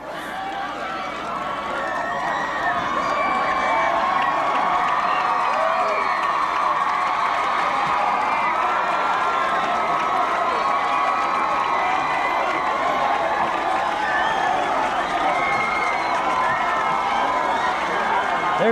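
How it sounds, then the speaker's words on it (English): A Hazlet high school football crowd roars and cheers continuously in an outdoor stadium, a loud swelling mass of voices with scattered shouts and whoops, mixed with talk. "you can feel the excitement from the Hazlet crowd"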